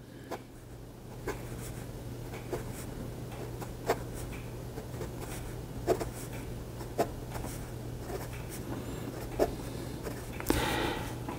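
Jinhao 51a fountain pen with a smooth, slightly wet Bobby nib writing on paper, producing faint, close scratchy strokes in an irregular rhythm over quiet room hum, with no talking.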